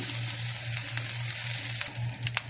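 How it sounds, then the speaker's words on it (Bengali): Steady oily sizzling of onion, chili and garlic frying in a pan, with a low hum underneath and a few clinks and stirring noises toward the end. "এখানে আমি এখন পেঁয়াজ মরিচ রসুনটা একটু ভেজে নিব আমি"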